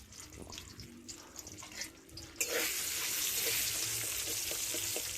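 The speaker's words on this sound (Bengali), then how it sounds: "সব দিয়ে ডিমটিকে ভালোভাবে ঝুড়ো ঝুড়ো করে ভেজে নিচ্ছি" An egg frying in a pan with salt, chili and turmeric powder bursts into a loud, steady sizzle partway through, after a quieter stretch with soft clinks and scraping.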